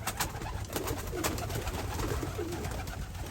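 Racing pigeons cooing and fluttering inside a loft, a steady chorus of soft coos and wing movement close to the microphone, with no talking.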